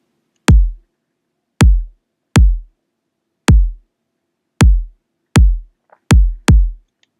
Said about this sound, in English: this is the exact same kick drum I always use